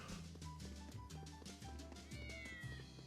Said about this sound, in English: Funky looking cats.